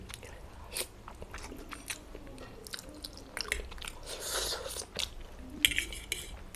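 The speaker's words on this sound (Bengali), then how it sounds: "এই যে আমি খাচ্ছি" Close-up chewing and biting of Maggi noodles with poached egg, wet crunchy mouth sounds and occasional soft utensil clinks repeating irregularly over several seconds at near range.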